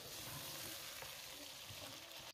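Tomatoes and green chillies sauté in oil for a beef dum biryani, making a soft, continuous sizzle with faint stirring, heard quietly and alone until it stops suddenly at the end.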